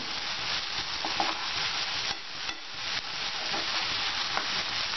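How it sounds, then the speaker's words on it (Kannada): Dill and coriander leaves being stirred in a frying pan, a steady broadband sizzle with scraping strokes from a spatula running continuously, close and moderately loud, no voices. "ಸಬ್ಬಸಿಗೆ ಸೊಪ್ಪು, ಆಮೇಲೆ ನಮ್ಮ ಕೊತ್ತಂಬರಿ ಸೊಪ್ಪು, ಇದನ್ನ ಚೆನ್ನಾಗಿ ಮಿಕ್ಸ್ ಮಾಡ್ಕೊಳ್ಳಿ"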